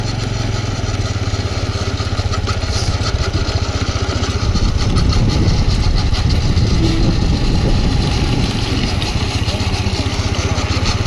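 A loud, close tractor engine chugs steadily at a low throb, idling and revving slightly without pause for the whole stretch.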